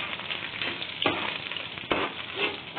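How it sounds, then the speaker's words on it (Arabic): Lamb tail fat fries in hot oil with a continuous loud, close sizzle and crackle, two sharper bursts of spatter breaking through the steady hiss. "حطيت اللية على الزيت كده وهسويها"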